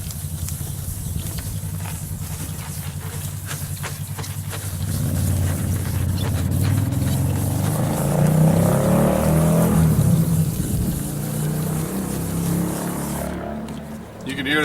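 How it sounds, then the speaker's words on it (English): Road traffic passes outdoors on a mild day: a low vehicle engine rumble swells in the middle, holds loud for several seconds, then eases away, over a steady background hum with faint voices. "You can hear the traffic in the background."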